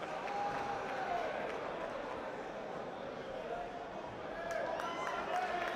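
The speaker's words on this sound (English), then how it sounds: "Sonny Edwards acknowledging the applause that he's receiving from the knowledgeable fans here at the York Hall in Bethnal Green" Boxing fans at York Hall in Bethnal Green applaud with steady clapping and crowd noise that runs throughout, under a commentator's voice.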